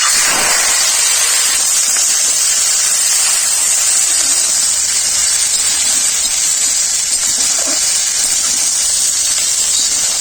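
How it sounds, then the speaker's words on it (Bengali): Potatoes, drumsticks, bitter gourd, capsicum and chilli frying together in hot mustard oil, a loud, steady sizzling hiss that starts with a sharp burst and continues evenly throughout. "আলু, সজনে ডাঁটা, উচ্ছে, ক্যাপসিকাম, লঙ্কা একসাথে ভেজে নেব।"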